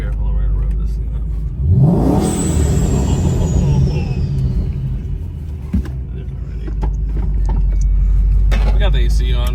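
A street car with the AC on, near a Coyote-engined Mustang, revs hard: a loud rising roar that climbs, holds and settles into a steady rumble, with people talking over it.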